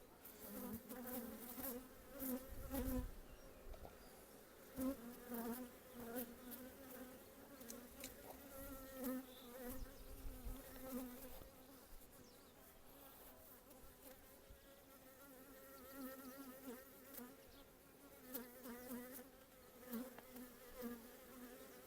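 Honey bees buzz steadily and close up at an opened six-frame hive divided in half, as a frame of bees is shaken into a one-frame split; a dense, continuous drone with individual bees passing near.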